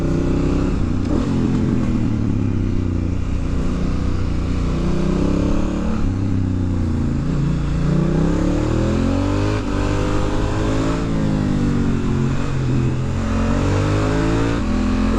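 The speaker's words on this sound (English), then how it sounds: "this is what the GS needs, an engine that sounds like that" A Honda Africa Twin motorcycle engine revs hard on Canary Islands roads, its loud, close exhaust note rising and falling through repeated throttle sweeps and gear changes.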